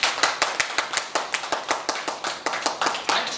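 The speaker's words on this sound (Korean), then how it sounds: "박수" A small congregation at a religious service claps in a steady, fairly even rhythm of distinct hand claps, close and moderately loud with no talking.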